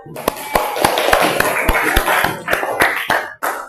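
Classroom of Indonesian students clapping hands, a ragged series of sharp individual claps at uneven intervals, close and fairly loud, with occasional faint voices.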